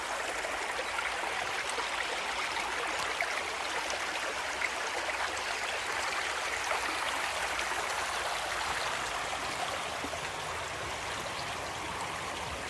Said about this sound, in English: Nice little river down that way.